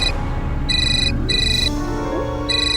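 A mobile phone ringtone plays in repeated bursts of bright electronic tones over a low background hum, with no one speaking.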